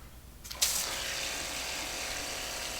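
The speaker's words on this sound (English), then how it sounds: "We have running hot water." A small portable shower pump powered from a battery with a heat exchanger clicks on, then runs with a steady whirring hum and rushing hot water that continues evenly after a short ratcheting start.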